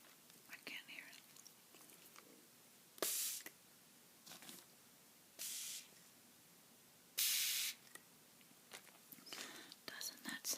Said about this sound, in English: I like this spray bottle.